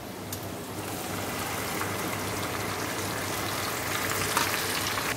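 Onions frying in a pan for a Bengali meat curry at home, a steady close sizzle and crackle running throughout with no speech.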